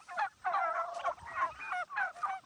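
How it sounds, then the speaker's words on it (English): Turkeys on a farm pasture, part of two flocks of over four hundred birds, give repeated warbling gobbles in overlapping bursts, moderately distant and fairly quiet, with no talk. "So there's 2 sets of 400 and some turkeys here in 2 sets."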